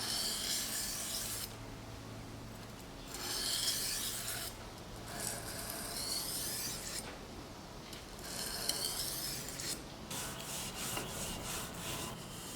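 Hand sanding on a Damascus steel chef knife blade: a steady, close abrasive rasping runs throughout in long, repeated strokes, with brief pauses between passes and no talking.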